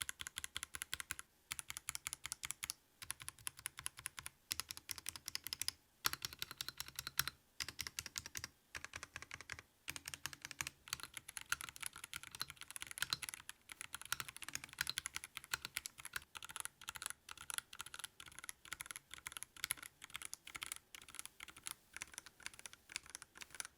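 Rapid typing on a Gamakay K61 Pro mechanical keyboard, crisp clacky keystrokes in quick bursts with brief pauses, close and alone.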